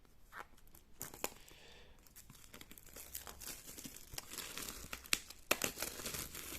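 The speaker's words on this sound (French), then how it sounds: "On va déballer ça tout de suite." A packaged camera lens being unboxed: close crinkling and tearing of wrapping and packaging in irregular bursts, with a few sharper rustles and snaps, no speech.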